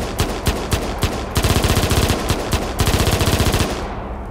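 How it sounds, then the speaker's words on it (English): Rapid bursts of gunshot sound effects in Unreal Engine 4 fire in quick succession, loud and close, with a short pause before the final volley trails off. "So I have this gun sound, okay?"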